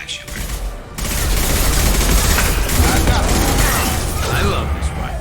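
Rifle fire in Mass Effect 2, heard as a sustained loud burst of rapid automatic shots with mechanical clatter, following a brief quieter lead-in, with a voice speaking over the shooting.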